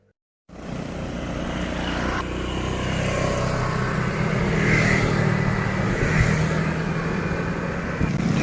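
A nearby motorcycle engine runs steadily throughout, a continuous droning rumble that starts abruptly after a brief silence and swells slightly louder midway, with no one talking.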